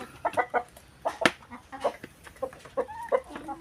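Heritage chickens, some recovering from a poultry virus, cluck in short, choppy bursts close by, several calls overlapping in an irregular rhythm.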